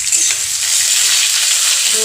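Onions frying in a pan give a close, steady, crackling sizzle with a faint stirring scrape, heard alone.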